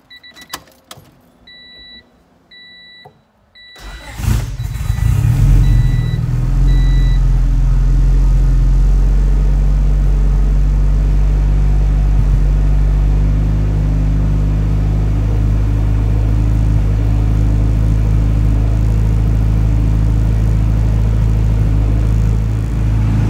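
A car engine cranks and catches after a boost controller install and a new battery, then settles into a loud, steady close idle rumble; faint chimes and clicks come just before the start.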